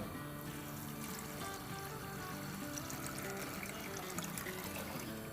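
Four cups of water poured into a pot of soaked dal on the stove, a steady, soft, continuous splashing pour lasting several seconds with no talk.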